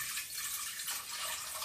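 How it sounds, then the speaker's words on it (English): Tap water runs steadily into a cooking pot as about one litre is measured for a Korean spicy beef noodle soup, a continuous broad splashing hiss close by with no talk over it. "And I'm putting 1 litre of water in there"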